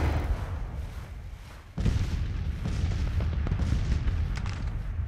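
Civil War artillery fires in Grand Tactician: The Civil War, a loud rumbling barrage of booms and dense battle noise. A heavy blast lands partway through, and the roar stays thick after it.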